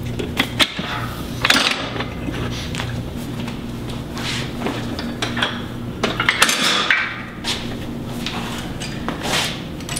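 Handles on a Powertec functional trainer beside an Olympic bench are swapped for a bar, producing a string of close metallic clanks, clicks and knocks at irregular intervals.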